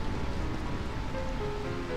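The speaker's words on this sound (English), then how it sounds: "I find this rain quite pleasant. It feels as though the raindrops are blessing our victory." Steady, broadband rain falling in the Final Fantasy IX video game, a continuous even wash of noise with no breaks.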